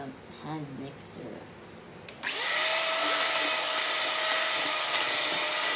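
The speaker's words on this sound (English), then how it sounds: "A little bit and then use the hand mixer." An electric hand mixer starts up in cornbread batter after brief quiet talk, then runs with a loud, steady high-pitched whir that continues to the end.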